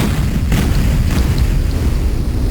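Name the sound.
explosion in a video game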